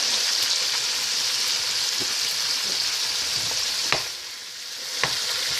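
Fresh green onion and parsley fry in a pot for Haitian djon djon rice, giving a loud, even hiss with a couple of sharp utensil knocks near the end.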